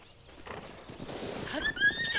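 A horse in Zelda: Breath of the Wild neighs briefly over soft hoof clip-clops and quiet game ambience, with no talk during the call.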